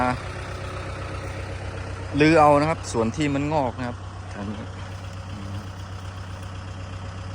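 A farm tractor engine idles steadily with a low, constant rumble in a sugarcane field after overnight rain, while someone talks over it for a few seconds in the middle.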